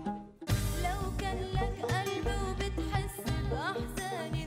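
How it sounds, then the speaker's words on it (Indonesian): A bingli, a gourd-bodied guitar covered with goatskin, is plucked in a lively, rhythmic run of twangy notes and bright strummed chords, played close and alone. "Suara yang dihasilkan gitar bingli dari labu memang khas."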